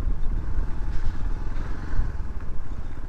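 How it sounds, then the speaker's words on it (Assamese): A motorcycle ridden uphill on a mountain route toward Leh, Ladakh, its engine a steady, close, continuous rumble with rhythmic low throbbing throughout, no talking. "মইতো বাইক লৈ গৈ আছোঁ, এক্সিলেটৰ পকাই দিওঁ, আপত আৰামছে উঠি যায়।"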